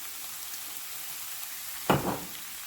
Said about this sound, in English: I would stir it together first and then add some soy sauce and then stir it some more